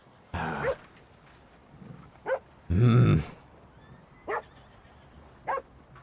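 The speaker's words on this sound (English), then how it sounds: "I thought I was gonna look at what the dog was barking at." In Red Dead Redemption 2, a dog barks in sharp, separate woofs, a couple of long loud ones and several shorter yips spaced across a few seconds, fairly close against a quiet game backdrop.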